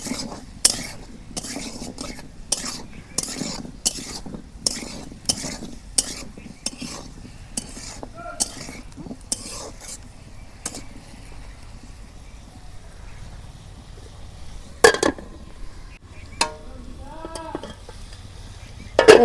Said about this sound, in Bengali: হালকা একটু হলুদ দিছি আর তেল দিয়ে আমি ভাইজা নিতেছি আলুগুলা